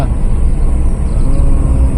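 A car on the mountain road to Dalhousie gives a short stretch of close, steady engine and road rumble, a dense low hum with no breaks.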